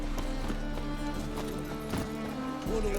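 Roach, the horse in The Witcher 3, gallops with a steady, rhythmic clip-clop of hooves close by over a low game ambience, and a voice is briefly heard.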